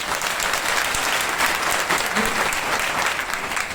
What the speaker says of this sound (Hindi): ये तालियां मेरे लिए नहीं, ये तालियां इन बच्चों के लिए है।